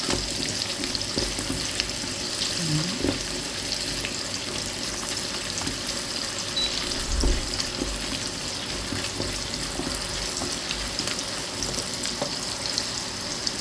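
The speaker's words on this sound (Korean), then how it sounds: "마늘 넣고 살짝 볶아주세요" Garlic stir-frying in a pan gives a steady, close sizzle throughout, with scattered clicks and scrapes of stirring and a brief louder bump partway through.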